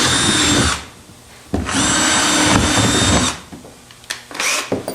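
A power drill with a 9/64 drill bit boring holes for a troll tray installation, heard as two loud close bursts of whining motor separated by pauses, then a few shorter stuttering pulls of the trigger.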